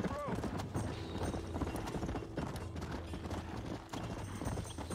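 Horses clip-clop along at a steady pace in the Red Dead Redemption video game, with hoof beats running under game music and a voice talking over them throughout.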